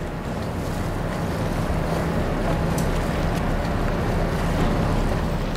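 A boat travels on the water in Venice near San Marco, giving a steady broad rush of engine, wind and water wash with heavy wind buffeting the microphone throughout.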